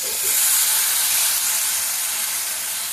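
Broken wheat (dalia) tipped into hot roasted cumin in a pan for khichdi, giving a loud, steady hissing sizzle that holds evenly from start to finish with no voices.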